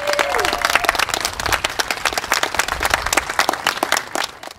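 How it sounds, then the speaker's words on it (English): A crowd at a school science building ribbon cutting breaks into applause, dense steady clapping that carries on for several seconds before tapering off at the end. "give them a little round of applause"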